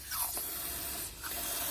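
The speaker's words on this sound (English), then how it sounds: "I'm just going to clean everything down with some maintenance spray." Maintenance spray hisses in short bursts over Aprilia RS 125 top-end engine parts, piston and conrod, during a rebuild, with close, steady aerosol noise and brief pauses between sprays.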